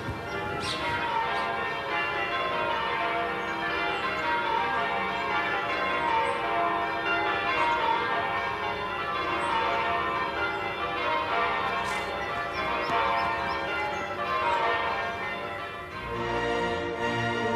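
Church bells ring continuously in a dense, overlapping peal that stays loud and steady throughout, with no voices.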